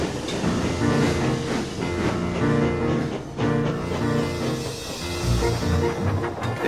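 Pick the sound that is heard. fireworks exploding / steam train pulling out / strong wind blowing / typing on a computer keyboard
steam train pulling out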